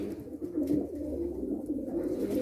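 A pet pigeon-type bird coos close by in a low, rolling, repeated call, with no voices over it.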